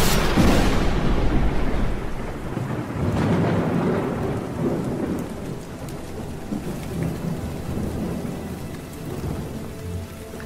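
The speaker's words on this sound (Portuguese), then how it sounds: "Forte tempestade agita a tropa de Scar." A heavy thunderstorm roars with dense, steady rain and deep rolling thunder, loud and continuous with no voices.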